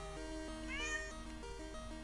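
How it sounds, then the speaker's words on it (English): A house cat meows in an apartment, giving one clear rising-and-falling call at close range over a low steady background hum. "Yes, meow."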